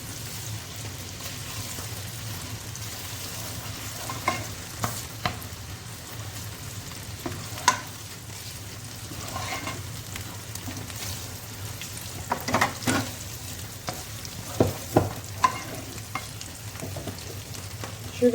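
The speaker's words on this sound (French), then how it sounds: "Je fais cuire le concentré de tomate." Tomato paste cooks in a frying pan for pan-fried chicken, giving a steady low sizzle with scattered crackles and a few sharper pops or spoon taps, fairly quiet and close, no voices.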